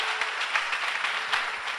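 A church congregation applauds together, a dense, steady wash of many hands clapping at close range with no voices rising above it.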